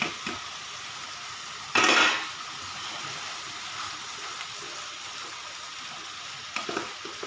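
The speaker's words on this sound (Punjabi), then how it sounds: "ਤੇ ਹੁਣ ਇਹਦੇ ਵਿੱਚ ਪਾ ਦਾਂਗੇ ਪਨੀਰ" Paneer is added to peas frying in a pan, a brief loud clatter and burst of sizzle, then a steady quiet frying hiss.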